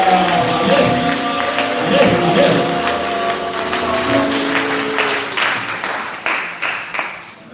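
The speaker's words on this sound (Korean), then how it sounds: "하나님께 영광의 박수를 드립니다." A church congregation applauds after a call to give glory to God, the clapping running under a sustained sung or organ-like tone that fades, leaving scattered claps toward the end.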